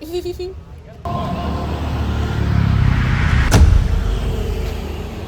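Cars crawl through congested road traffic near Lembang, Bandung, as a continuous low engine rumble swells slightly, with one sharp bright transient partway through.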